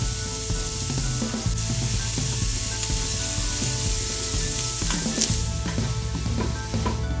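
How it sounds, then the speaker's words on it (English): Chopped yellow onion and garlic sautéing in canola oil inside an Instant Pot, a loud, steady, close sizzle with stirring scrapes and clatter throughout. "add some canola oil and saute the chopped yellow onion and garlic about 2 minutes"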